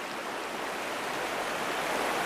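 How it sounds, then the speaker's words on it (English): Fast, shallow river water rushes around a trout angler in a steady broadband wash, close and loud with no pauses and no speech. "Now we're going to push up through this fast water ahead of me."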